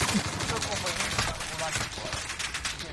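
Rapid bursts of automatic gunfire crack steadily in an online video game shooter, close and loud, layered with game noise while players talk over the shooting.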